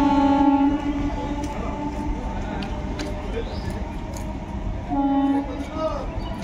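A Kashimbazar–Azimganj MEMU passenger train of the Asansol car shed rumbles into a station on the Murshidabad line, its horn sounding at the start and again near the end, with someone talking throughout.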